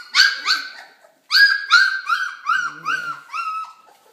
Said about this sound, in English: These are Summer and Bears Bernedoodle puppies